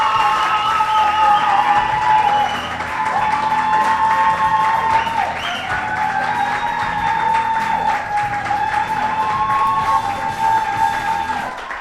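A student union election debate crowd applauds and cheers for a VP Welfare and Diversity candidate, with steady clapping and scattered whoops and yells. The noise runs loud and continuous for the whole stretch.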